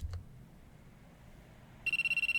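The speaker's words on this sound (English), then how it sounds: "the ring of his cell phone interrupted me" A cell phone rings in the visual novel game Aoi Shiro, entering after a near-silent stretch as a steady run of bright, evenly pulsed electronic ring tones, clear and close.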